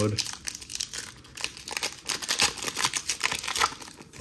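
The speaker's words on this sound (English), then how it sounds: "Shuffle these packs up a little bit actually." Plastic Panini Premier League card packs crinkle and rustle in quick, uneven bursts as they're shuffled close up, with a voice talking over the handling.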